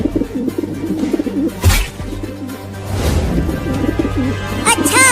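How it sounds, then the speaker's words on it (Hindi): Pigeon cooing and bird sounds with a brief burst of flapping midway, over background noise. "उड़ गया कबूतर"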